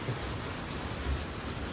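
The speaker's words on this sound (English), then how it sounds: "Rain's picking up a little bit" Soft, steady patter of rain, a low continuous hiss with faint low rumbles underneath.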